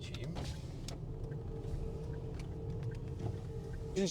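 An electric car's power window motor whirs steadily inside the cabin amid driving rumble, with faint speech at moments.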